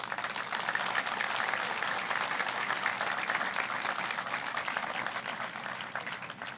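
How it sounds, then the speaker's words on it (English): An audience at a Europe Day reception applauds with dense, steady clapping that holds at an even level throughout, without a break. "Please give them an applause."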